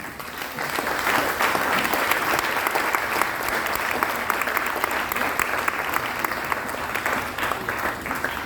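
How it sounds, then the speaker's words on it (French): Sustained applause from a sizable crowd, steady and dense clapping throughout with no talking over it. "Sous vos applaudissements."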